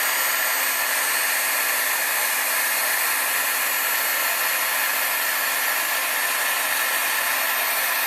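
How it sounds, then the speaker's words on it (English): A heat gun used for heat embossing on a paper craft project gives off a steady, even electric whir with a constant airflow hiss. It holds at the same level throughout with no talking. "So we're going to take the heat gun."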